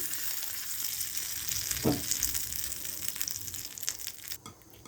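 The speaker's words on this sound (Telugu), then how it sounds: "కొబ్బరి చట్నీలోకి పోపు రెడీ అయిందండి." Tempering for coconut chutney sizzling and crackling steadily in a hot pan, a continuous bright frying hiss with small pops throughout, close and fairly loud, no voices.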